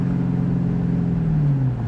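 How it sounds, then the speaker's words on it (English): A supercharged 4.6-litre V8 in a 2002 Ford Saleen with 30K miles runs with a loud, close, deep steady burble and a slight pitch dip toward the end, with no talk over it. "It's a really good sounding car as far as the engine compartment goes."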